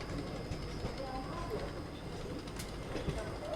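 A diesel locomotive from Itarsi shed, a WDM 3D, hauls a passenger train departing Bhopal Junction, giving a continuous broad rumble of engine and rolling wheels heard from on board, with faint rattles throughout.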